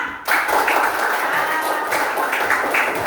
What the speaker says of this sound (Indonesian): Ada tepuk tangan buat temannya